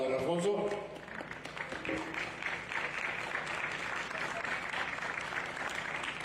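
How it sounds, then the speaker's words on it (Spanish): An audience applauds to welcome a speaker named don Alfonso, a steady roomful of clapping that continues without letting up, with a voice heard briefly at the start as the clapping takes over. "Por favor, un aplauso para don Alfonso."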